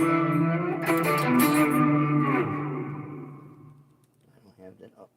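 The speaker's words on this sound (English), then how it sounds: "Now I'm going to add the terror echo on." Electric guitar with shimmer delay and an added echo effect, sustained chords ringing with trails that decay over several seconds, fading into quieter repeats near the end; tones are loud and close.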